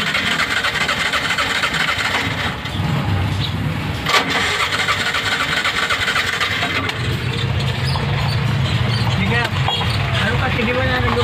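A vehicle engine cranks repeatedly without catching, a steady loud mechanical churn with a brief clunk partway through, while someone talks over it.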